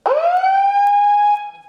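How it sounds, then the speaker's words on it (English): A tornado warning siren wails outside during a statewide tornado drill, a loud sustained rising tone that holds steady before dropping off, with no talking. "While sirens sounded outside, an alert was sounded inside the halls of Joplin High School"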